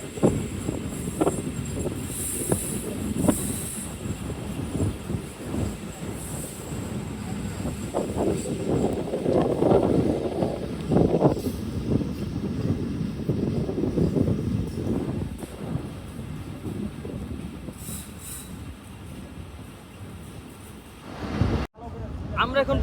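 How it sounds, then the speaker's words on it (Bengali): A close, continuous rumble of rolling wheels and carriage noise from inside the Ovijatri Commuter train as it enters platform 2 of Sreenagar station in Munshiganj. Someone speaks over it, and a brief jolt comes near the end. "আমাদের ট্রেনটি এখন মুন্সিগঞ্জের শ্রীনগর রেল স্টেশনের 2 নং প্ল্যাটফর্মে প্রবেশ করছে"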